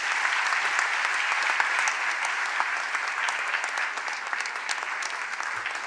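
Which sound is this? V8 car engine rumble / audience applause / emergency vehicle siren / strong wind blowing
audience applause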